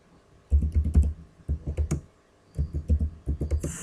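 Bursts of typing on a computer keyboard while editing a form's property window in Visual Basic 2010, with several quick runs of close, crisp key clicks separated by short pauses and no talking.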